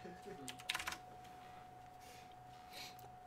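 A short burst of quick keystrokes on a computer keyboard near the start, then faint scattered taps later, quiet under a steady hum during a speedrun of Baldi's Basics in Education and Learning.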